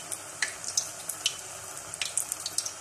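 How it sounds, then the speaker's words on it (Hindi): A noodle taco shell fries in hot oil, giving off faint, scattered sizzling crackles and small pops over a soft, steady hiss, with no talking. "इस तरीके से और थोड़ी देर इस तरह फ्राई करेंगे"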